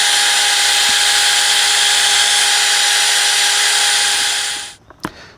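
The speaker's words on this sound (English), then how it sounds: "I have an awl on the drill" A power drill fitted with an awl whines loudly and steadily for several seconds while boring holes, then winds down and stops, followed by a couple of small clicks.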